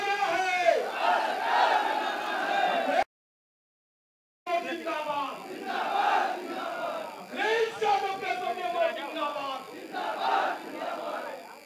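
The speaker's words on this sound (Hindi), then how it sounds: "जोरदार तालियों के साथ अतिथियों का स्वागत" A crowd at a Mahan Dal and Samajwadi Party workers' rally roars with loud cheering and shouting. The noise drops out briefly, then surges back, with voices rising and falling throughout.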